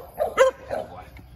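A pitbull giving a couple of short, close barks and yips during a training session, with someone speaking around them.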